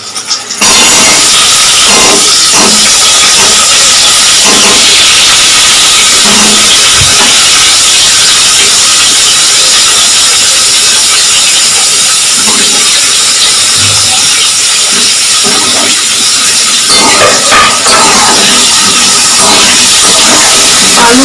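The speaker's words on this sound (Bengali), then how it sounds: "আলুগুলো সুন্দর করে ভেজে নেবো, একটু লাল লাল করে ভেজে নেবো।" Potatoes frying in hot oil after browned onions in a home kitchen, a loud steady sizzling hiss that fills the whole stretch, with faint clinks from stirring.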